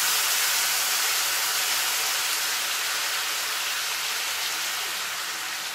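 Chicken wings frying in hot oil give a steady, dense sizzle that holds at an even level throughout, close to the pan with no talking.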